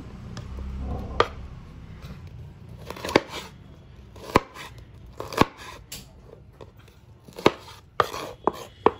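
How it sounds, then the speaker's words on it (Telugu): A kitchen knife chops bitter gourd on a cutting board, sharp irregular thuds repeating close up over a quiet background, with no talking. "కాకరకాయలన్నీ ఇలా కట్ చేసుకుందాం."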